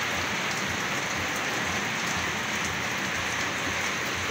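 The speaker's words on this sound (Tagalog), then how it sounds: "na-timing po na umulan na" Heavy, steady rain pours onto surfaces outdoors during laundry rinsing, a dense, even wash of drops throughout with no voices.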